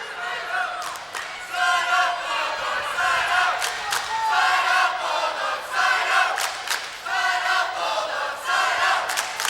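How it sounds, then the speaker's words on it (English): A high-school student section chants rhythmically in a gym during a Class C state volleyball final, the repeated crowd shouts rising and falling in steady waves, loud and filling the space with no separate talk. "I think you can probably hear some of the crowd chanting as it got a little quiet there for a moment"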